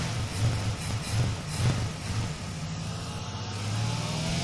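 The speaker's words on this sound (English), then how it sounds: "First thing I'm doing right now is allowing the engine to warm up." A Honda Jazz 1.4 engine idles steadily as it warms up, a low continuous hum with slight rises in revs, heard alone with no talking.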